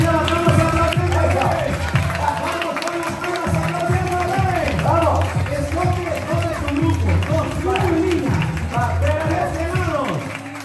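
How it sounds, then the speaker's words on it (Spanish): Children clap along to music at a party, a busy layer of rhythmic claps and crowd noise running continuously under a loud music track with voices. "¡Vamos a aplaudir!"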